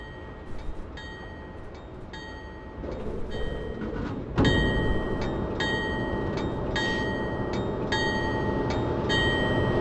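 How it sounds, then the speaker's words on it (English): A Northeast Regional passenger train rumbles at a New York City station platform with a steady, loud roar and a repeating series of high, ringing metallic tones. The roar swells partway through and then holds. "So that's our train."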